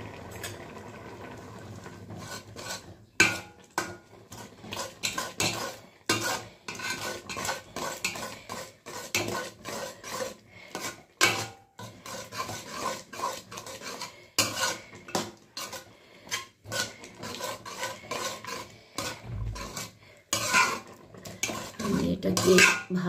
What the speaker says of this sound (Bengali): দেখো এর মধ্যে আমি আটা দেব, এই 1 চামচ দিয়ে কিন্তু নাড়তে হবে ভালো করে